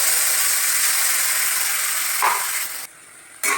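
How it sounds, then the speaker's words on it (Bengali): Spice paste dropped into hot mustard oil in a wok gives a loud, steady hissing sizzle that flares briefly, then cuts out for a moment before resuming. "কড়াইয়ের তেল তেতে গেছে,"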